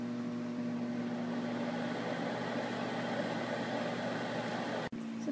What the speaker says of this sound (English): Our next step is to microwave it, and I'm just going to put mine on for 20 seconds.